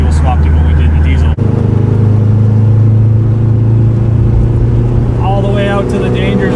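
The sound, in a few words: VW turbo diesel swapped Volvo 242 accelerating through manual gears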